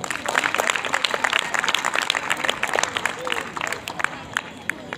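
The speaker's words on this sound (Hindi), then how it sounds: "जोर से तालियां।" A crowd claps loudly and steadily for B.Ed trainees at the close of a school event, a dense, continuous burst of applause with some murmuring voices underneath.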